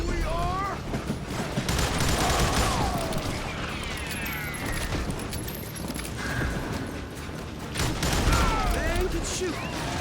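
Gunfire in the Western shooter Call of Juarez Gunslinger: bursts of shots and clattering mechanical reloads mixed with whooshing effects and game voices, loud and busy throughout.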